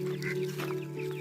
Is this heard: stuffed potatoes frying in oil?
no